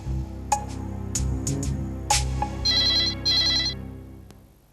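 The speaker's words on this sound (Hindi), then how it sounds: "मैं उसको फोन करता हूँ, ट्राई करता हूँ" A telephone rings in short repeated electronic bursts, followed by two longer warbling rings, fairly quiet and alone in a room with no talk.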